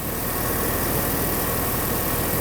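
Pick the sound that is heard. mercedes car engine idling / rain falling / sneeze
mercedes car engine idling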